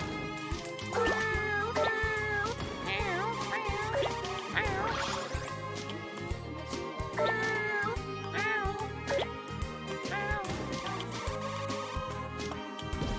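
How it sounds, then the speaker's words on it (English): Cartoonish cat meows from We Love Katamari Reroll + Royal Reverie repeat over busy, bouncy game music, with several distinct mews rising and falling through the whole stretch. "Kitties."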